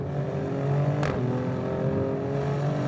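An Alfa Romeo Stelvio Quadrifoglio 503bhp SUV engine in race mode drones steadily at a strong, even pitch, with one sharp click partway through.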